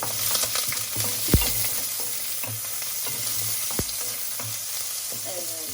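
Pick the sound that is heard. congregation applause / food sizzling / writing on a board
food sizzling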